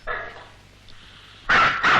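A dog barks in a Tamil comedy scene, first a faint yip, then two loud, close barks in quick succession.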